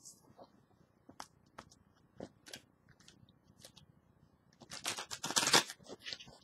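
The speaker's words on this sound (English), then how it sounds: "One more good shuffle" Close-up, crisp card shuffling: scattered soft flicks and taps, then a louder burst of riffling near the end.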